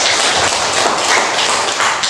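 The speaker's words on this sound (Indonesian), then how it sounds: "tepuk tangan dulu" Students clap together in a junior high school classroom during a drama lesson, a dense, steady burst of applause lasting a couple of seconds.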